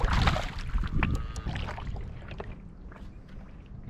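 Stand-up paddleboard moving across a marina, close splashing and swishing water strokes under breezy wind noise, loudest at the start and easing off toward the end.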